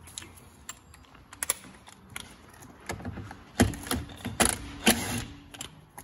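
Air gun spinning out a steering wheel bolt with a T50 Torx bit on a Renault Clio 172/182, heard as a few sharp rattling bursts in the middle of the clip, loud and close, between quieter clicks and handling noise.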